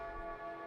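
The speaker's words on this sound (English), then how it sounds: "Everyone took their seats once the sound of the bell announced the start of homeroom." A school bell in the Chaos;Head Noah visual novel announcing homeroom, heard as a short, faint sustained ringing tone lasting under a second.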